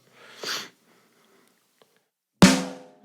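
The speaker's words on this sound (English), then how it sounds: "So on count 1, we're going to hit the snare" A sharp snare drum hit cracks loudly and rings briefly, following a soft breathy swish and a long quiet gap.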